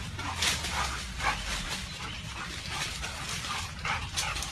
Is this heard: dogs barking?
yes